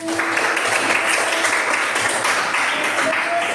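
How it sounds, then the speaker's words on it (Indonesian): Classmates in an Arabic language classroom applaud a student group, a steady dense clapping that fills the room for a few seconds at an even, fairly loud level. "Tepuk tangan untuk kelompok 1."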